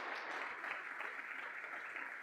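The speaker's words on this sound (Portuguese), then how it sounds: "Dá mais um aplauso ao Senhor Jesus" A church congregation applauds during a Sunday evening service, a faint, even patter of many hands clapping at a distance, continuous through the short stretch with no voices over it.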